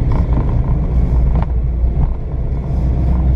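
A track car drives slowly, aiming for 15 mph, with a steady loud engine rumble and wind buffeting close to the microphone throughout, and no talk.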